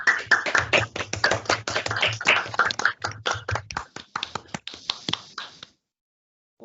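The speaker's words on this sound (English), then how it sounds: "give a quick round of applause" Participants in an online user-group meetup clap through their microphones, a brisk flurry of overlapping hand claps with a low hum beneath, thinning to a few scattered claps before falling silent.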